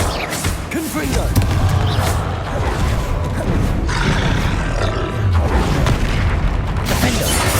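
Loud, continuous booming blasts and roaring impacts from a Confringo fire spell in Hogwarts Legacy on PS5, layered with dense combat effects and game music throughout.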